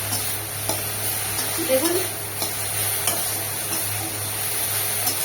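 Spice paste frying in a little oil for a pointed gourd and prawn dish, a close steady sizzle with stirring scrapes, an electrical hum underneath and a brief spoken word over it.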